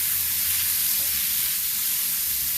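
Tomato frying in a pan, a dense, steady, close sizzle without distinct stirs or talk.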